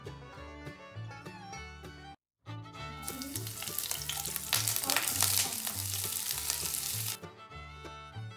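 Chicken pieces sizzle and crackle steadily in a hot pan while being fried for Bengali chicken kosha, close and fairly loud. The frying is broken by a brief silent gap, then swells louder in the middle before easing.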